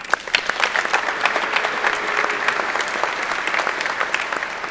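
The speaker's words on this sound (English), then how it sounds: "join me with a quick round of applause to everyone in the community" A conference audience at a Laracon software event breaks into dense, even applause, many hands clapping together in a large hall at steady volume for the whole stretch.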